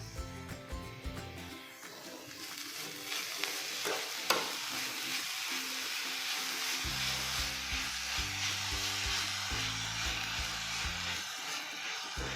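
Bottle gourd halwa being stirred in a pan after a cup of sugar goes in, with steady scraping and a soft continuous sizzle close by, alongside music with a low repeating pulse.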